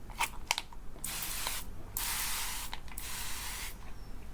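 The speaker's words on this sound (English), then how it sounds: "I want you to watch the spray that you get from this." A spray bottle misting skincare toner, several short sharp pumps followed by longer airy hissing bursts that come close together and sit close and clear, with no one talking.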